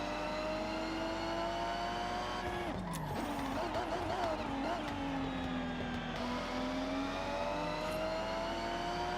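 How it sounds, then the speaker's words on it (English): A car engine in a racing video game held at a steady high whine, with a brief throttle tap that dips and swells the pitch midway, loud and continuous with no speech. "you can hear me rev, so you know when I'm tapping gas"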